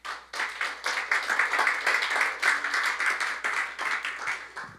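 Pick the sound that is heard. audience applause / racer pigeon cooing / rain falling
audience applause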